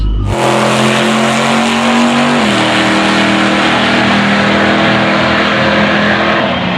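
A big-tire Nova drag car launches down the strip with a loud sustained engine roar, its pitch rising and shifting through a gear change, close and powerful, with no talk.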